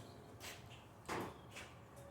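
A door on a 1966 Ford Mustang, left sitting for 30 years, shuts with one dull thud, flanked by a couple of fainter knocks in a quiet setting.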